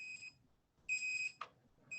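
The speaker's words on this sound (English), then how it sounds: "Our radiation monitor raises the alarm." A radiation monitor in a contaminated exclusion zone sounds its alarm, giving repeated electronic beeps with one long tone between shorter ones, plus a brief click, clear and close in otherwise quiet surroundings.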